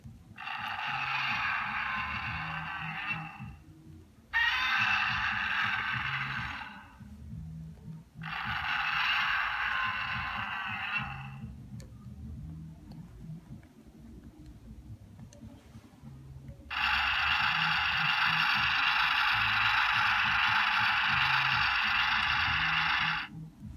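Loud hissing, breathy bursts from an S.H.MonsterArts Godzilla 1989 toy figure's sound effect: three short exhales with pauses between, then a much longer sustained breath near the end.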